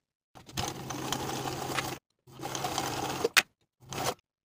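A sewing machine bastes the top of a trouser pocket to the pant front in three close bursts of rapid stitching. The runs last about 1.5 s, 1 s and 0.5 s, with short pauses between them and a brief click near the end.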